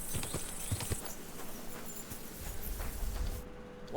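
Horse hooves clip-clop at a walking pace in the medieval game Kingdom Come Deliverance 2, a faint, uneven series of soft thuds against a quiet ambient background.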